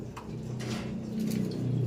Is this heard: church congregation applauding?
no